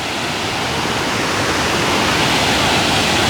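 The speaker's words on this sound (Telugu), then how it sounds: "మినీ వాటర్ ఫాల్స్ అంటారు దీన్ని దుర్గాపల్లి మినీ వాటర్ ఫాల్స్" Steady, loud rush of a small waterfall at Durgapalli, a continuous broadband roar with no pauses, close by.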